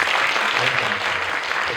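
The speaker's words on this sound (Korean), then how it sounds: "한번 박수 부탁드리겠습니다." A movie-theater audience at a guest-visit screening with actor Yim Si-wan breaks into dense, continuous applause that holds at an even level throughout the short burst.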